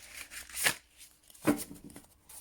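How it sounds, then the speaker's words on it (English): Two quick riffling bursts of tarot cards being shuffled, crisp papery flutters separated by a short pause, close and quiet with no talking. "Yeah, it's a nice shuffle. Definitely an easy shuffle."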